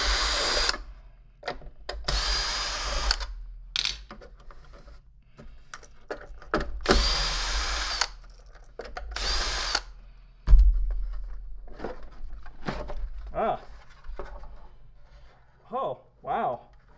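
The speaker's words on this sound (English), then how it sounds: "let's try taking the Phillips out for fun." A power drill unscrews long Phillips screws from a Lindhaus HF6 vacuum, loud whirring bursts of a few seconds each, separated by pauses, clicks and someone talking.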